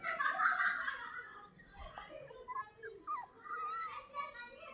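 Street puppies whimper while waiting to be fed milk, giving thin, high, wavering whines that come in short overlapping bursts, close by and moderately loud.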